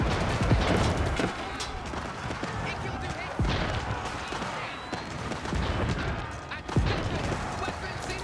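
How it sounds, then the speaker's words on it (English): Hand cannoneers fire in an Age of Empires match between English and Delhi Sultanate armies. Sharp gunpowder cracks pop out every second or two over steady battle clatter, while a commentator talks throughout. "Hand cannoneers firing away"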